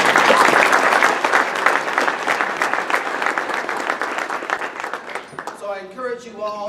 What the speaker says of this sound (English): please give yourselves a shameless round of applause